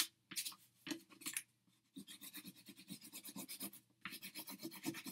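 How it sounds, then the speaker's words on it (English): Light blue pastel rubs and scrapes across paper in quick bursts of short strokes, close and clear, with short pauses between the rhythmic passes. "I think I'm going to choose maybe another light blue to just kind of rub in"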